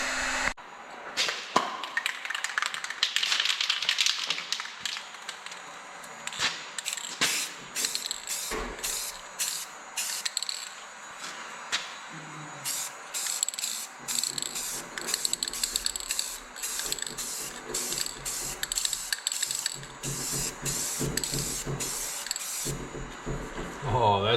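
Aerosol spray paint hisses in short repeated bursts as the trail groomer of a snow cat tow truck gets painted, with rattling can and occasional talk in between.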